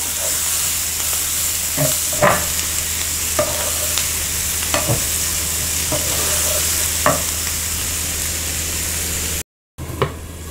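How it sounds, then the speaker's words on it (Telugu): Boiled cluster beans are stirred into a sizzling spice mix in a pan for a keto goru chikkudu fry, with roughly seven distinct scraping strokes at a steady pace over continuous frying hiss, close up. "నెక్స్ట్ దీంట్లో ఉడికించిన గోరుచిక్కుడుకాయలు వేసేయాలి, బాగా మిక్స్ చేయాలి."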